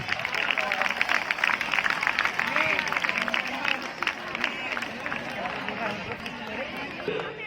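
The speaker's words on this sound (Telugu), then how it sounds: "గట్టిగా క్లాప్స్." Dense crowd noise at a quiz prize-giving, with a steady wash of clapping from many people, loud and continuous, mixed with cheering and chatter throughout.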